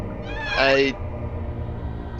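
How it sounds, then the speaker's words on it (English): A house cat gives one clear, rising-and-falling meow up close, with a brief second chirp starting at the very end, over a low background hum. "That's my cat."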